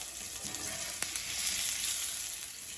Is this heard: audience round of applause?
no